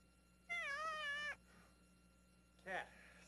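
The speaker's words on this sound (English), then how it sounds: "Cat. Scared me." A black cat meows close by, one long wavering meow followed after a pause by a shorter second one, against a quiet indoor background.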